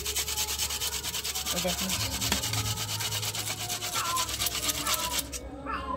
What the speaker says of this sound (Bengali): এই যে একদম মিহি গ্রেট হয়ে যাচ্ছে আমার